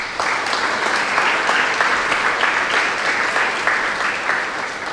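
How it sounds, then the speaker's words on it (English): A large audience at an indoor mental health awareness session applauds steadily to welcome someone speaker, dense clapping sustained for about five seconds. "I request you to welcome her with a big round of applause"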